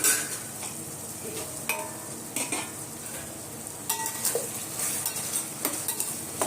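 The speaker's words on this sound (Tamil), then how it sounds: "இப்போ வந்து நம்ம வெண்டைக்காயை சேர்த்து நல்லா வதக்கிடலாம்" Okra tossed in hot oil in a pan, with a steady faint sizzle under repeated sharp stirring scrapes and clinks of a utensil against the pan, fairly close and without talk.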